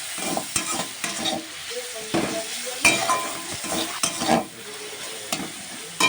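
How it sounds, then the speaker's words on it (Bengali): Garlic paste masala is stirred and fried in a pan, a steady sizzle broken by repeated scraping and clanking strokes of the spatula against the metal. "রসুনের পেস্টটা দিয়ে দিচ্ছি দিয়ে মশলাটা কষিয়ে নিচ্ছি"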